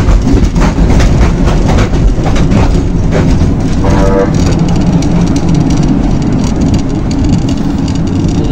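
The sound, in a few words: train ride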